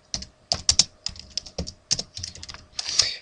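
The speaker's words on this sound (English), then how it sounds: "So let's type in some grades." Rapid, close key clicks on a computer keyboard, with irregular bursts and brief pauses, entering values into a C# program; no talking.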